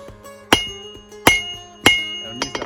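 A rounding hammer's round die strikes a Viking axe head to forge a bevel, landing three sharp, ringing metallic blows about a second apart with a quicker tap pair at the end, close and loud with no talk.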